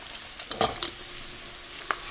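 Squash stirred in a hot pan, a faint steady sizzle with a few soft scraping stir strokes and light clicks.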